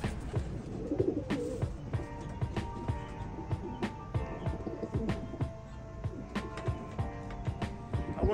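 Pigeons, common or homing birds, coo softly in a low rhythmic murmur close by, mixed with scattered taps and rustles, fairly faint overall.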